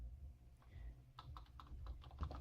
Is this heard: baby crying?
no